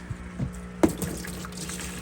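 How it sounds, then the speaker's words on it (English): Water pours and splashes into a plastic tote during planted aquarium maintenance, with a brief louder splash partway through over a steady trickle. "put a little water in a tote"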